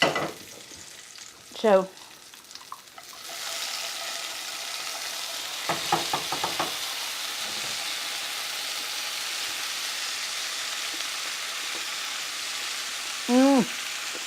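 Shallots sizzle steadily in a hot pan while being stirred for a chicken curry, a continuous frying hiss with scraping stir strokes, and a voice speaks briefly over it.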